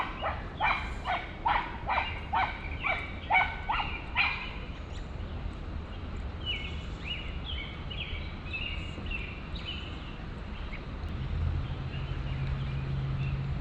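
A dog barks in a quick run of about eight sharp, evenly spaced barks, then smaller yips and whines follow over steady background noise, outdoors near a river with rocks and current.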